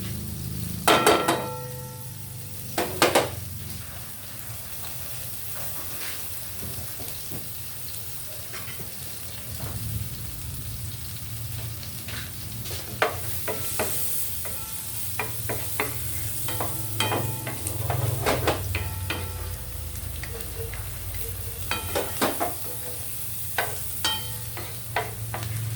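Garlic fries in margarine in a pan, a steady close sizzle broken by repeated scraping and clanking strokes of a utensil as it is stirred, with no talking.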